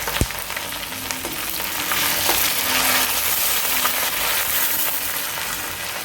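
Onion, green chili and tomato fry in a pan with a steady close sizzle, a few sharp clinks of a stirring spoon near the start.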